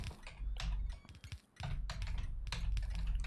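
A computer keyboard clatters with bursts of fast keystrokes and brief pauses, fairly quiet and close, during a session of the factory-building game Factorio.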